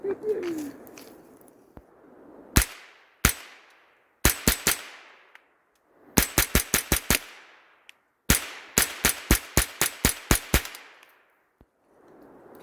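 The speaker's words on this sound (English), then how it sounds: "These are mini mag 22 LR rounds. So I'm going to be firing into this backstop." Rifle firing Mini-Mag .22 LR rounds into a backstop while target shooting in a forest, sharp cracks in scattered singles and then rapid strings of about seven or eight shots, loud and close with short decays between.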